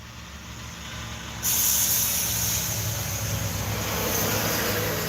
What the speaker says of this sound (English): And there goes another truck